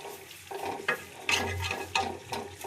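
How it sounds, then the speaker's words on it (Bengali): Potatoes being stirred in a frying pan while cooking chicken kasha, with a soft sizzle underneath and several distinct scraping strokes of the spoon at irregular intervals, close and fairly quiet. "আলুগুলোকে দিয়ে দিলাম আমি, দিয়ে একটু নাড়াচাড়া করে দিলাম"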